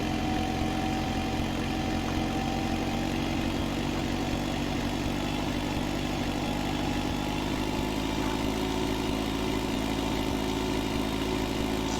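A farm tractor due for servicing idles steadily for the whole stretch, a constant low mechanical drone with an even, unbroken rumble and no voices over it.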